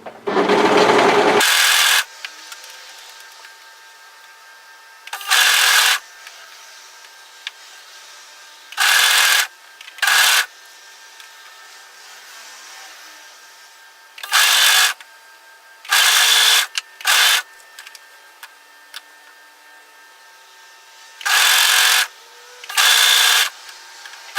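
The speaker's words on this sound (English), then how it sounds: "now I'm just going to go ahead and overlock this into position" An overlocker stitching the fabric of a dress, running in about eight short loud whirring bursts of one to two seconds each, separated by near-silent pauses, close up with no talking.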